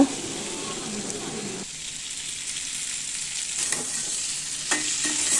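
Gooseberry (nellikkai) pickle frying in oil while being stirred, a soft steady sizzle with occasional scrapes of the spoon against the pan, close by and quiet.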